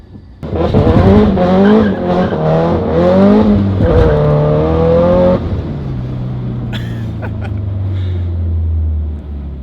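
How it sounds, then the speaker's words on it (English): A Toyota TRD 86 does a tire burnout, its engine revving hard in rising and falling waves before the roar drops away, leaving a low rumble and some faint squealing. "He'll burn out."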